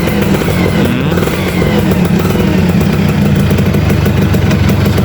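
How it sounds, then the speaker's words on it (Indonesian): A 2001 Yamaha F1ZR two-stroke motorcycle engine runs at a steady, loud idle close by, with a buzzing continuous tone and no talking. "Kita pakai starter tangan aja. Sekali starter langsung jreng."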